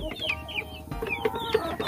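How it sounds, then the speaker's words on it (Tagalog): Rhode Island Red chickens in a pen, about 52 days old, clucking and giving short calls close by. The calls come in a busy overlapping stream with some higher squawks. "Hubbard, dito yung mga Rhode Island Red natin. Yan sila."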